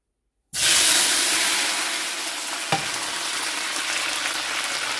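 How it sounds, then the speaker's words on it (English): Vegetables hitting hot extra virgin olive oil in a cooking pot, an abrupt loud sizzle that starts after a short silence and settles into a steady close hiss, with one small clink partway through. "Sauteing doesn't really take that long in its process."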